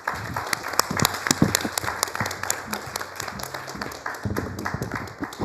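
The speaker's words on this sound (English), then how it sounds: "Please give them a huge round of applause." Audience applause for a panel of mayors at a high-level session, a dense, sustained wash of many hands clapping at moderate volume with some crowd murmur beneath.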